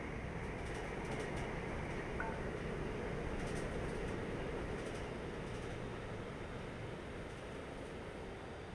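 A train runs continuously in Train Life: A Railway Simulator, giving a steady, even rumble with faint higher whines throughout and no talk.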